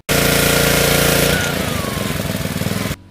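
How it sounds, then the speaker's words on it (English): A Ryobi 3100 PSI gas pressure washer engine runs loud and close, then drops to a lower idle after the trigger is released, settling into a steady throbbing putter. "when you lay off the trigger, it idles the engine down"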